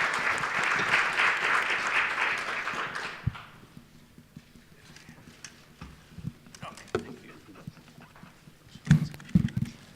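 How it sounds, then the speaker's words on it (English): Conference audience at a security forum applauds for about three seconds, dense and fairly loud, then fades to scattered claps, shuffling and light room noise. "Round of applause, thank you."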